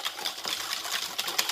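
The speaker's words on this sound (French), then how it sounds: "il faut déjà bien fouetter ce mélange" A cake batter of egg yolks, oil and milk is whisked fast by hand, giving a steady scratchy swishing with quick irregular scrapes and taps against the bowl. The sound stays close and fairly even, with no one talking.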